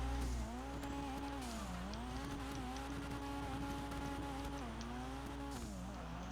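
A tuned Jester Classic drift car in GTA runs steadily at high revs, its engine tone rising and falling as it slides sideways, with a continuous tire squeal layered over it throughout.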